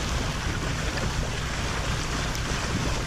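A sailboat underway on a beam reach at 6.5 knots with a generator running, giving a steady, dense rush of wind and water with a low mechanical hum beneath it and no voices.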